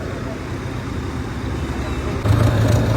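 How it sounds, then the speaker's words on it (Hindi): A bulldozer drives away along a road, its loud, rough engine and roadway rumble filling the whole stretch, with a deeper throbbing drone swelling in near the end. "लो भाई जा लिया अपना बुलडोजर एजेंसी के लिए"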